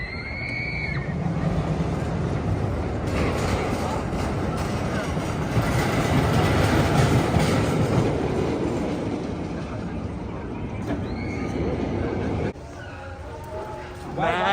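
Mine Train family roller coaster at Great Adventure rumbling along its track, a loud continuous clattering roar that swells and fades, with riders' voices and shouts at the start and end.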